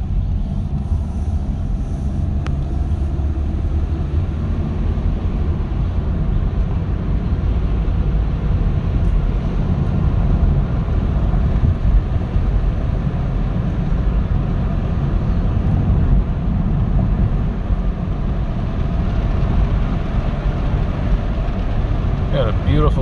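A car with a P0138 oxygen sensor fault code drives down a street on a warm summer night, giving a steady low engine and road rumble that holds evenly and fairly loud throughout.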